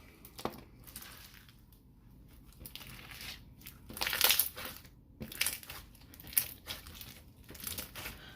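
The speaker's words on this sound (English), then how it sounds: "It has really nice bubble pops, and that is probably due to the beads as well." Beaded slime being stretched and pressed, giving a run of crisp crackling bubble pops and crunchy clicks in uneven bursts, close and fairly quiet, with no talking.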